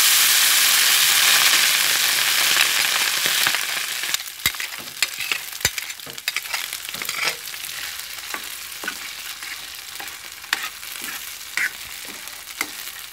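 Rice frying in oil with garlic, a loud bright sizzle at first that settles into a softer crackle, broken by frequent sharp clinks and scrapes of stirring against the pan.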